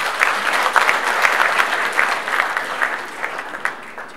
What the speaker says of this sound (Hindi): मुझे लगता है तालियां तो बजनी चाहिए।